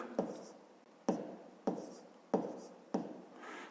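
A pen or marker writes a math answer in five soft, evenly spaced scratching strokes, faint and close, with quiet room tone between them and no speech.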